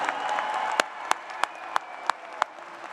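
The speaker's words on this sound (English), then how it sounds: "How about another round of applause for our newest master's degree students?" At a Clemson University graduation ceremony, the audience applauds the newest master's degree graduates. A fading wash of clapping is followed by six sharp, evenly spaced single claps.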